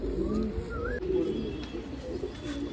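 Pigeons cooing close by, a few soft rolling coos with a brief chirp over low background murmur.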